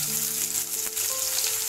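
Sliced onion frying in hot oil in a pan, a steady close hiss of sizzling with faint crackles throughout, and no one talking.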